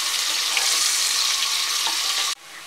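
Onions frying in hot oil for mutton dalia, a bright steady sizzle with faint crackles that cuts off abruptly near the end, leaving a softer hiss.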